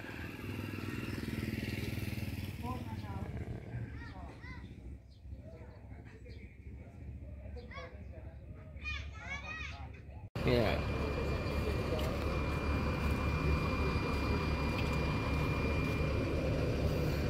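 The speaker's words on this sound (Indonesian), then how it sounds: "Oke, ini mesin sudah dihidupkan dari ALS Nopin 343" A parked ALS intercity bus, number 343, with its diesel engine just started, idles as a steady loud low rumble through the later half, after mixed yard noise and talk earlier.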